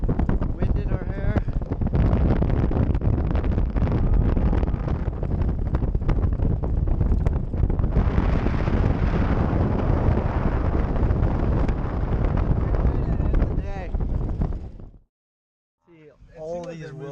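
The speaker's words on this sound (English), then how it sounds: "Sunset on the Serengeti, breeze cruising, wind in our hair." Strong wind buffets the microphone as a vehicle cruises across the Serengeti at sunset, a steady loud roaring rush that lasts almost the whole span, then drops off abruptly before a short return near the end.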